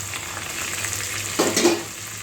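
Ginger, curry leaves and pepper tempering in hot oil in a pan, a steady close sizzle with a brief louder burst of crackling near the end.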